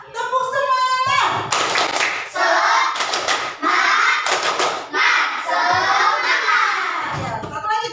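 Schoolchildren in an Islamic elementary classroom perform the tepuk semangat clapping chant, rhythmic bursts of hand claps with voices chanting along, after a teacher's voice leads in.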